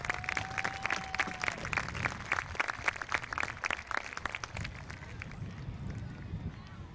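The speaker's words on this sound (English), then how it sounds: "Please give them a big round of applause for all the work that they do." A crowd at a youth pony baseball opening day claps for the league board, brisk outdoor applause at moderate distance that fades gradually, with voices mixed in.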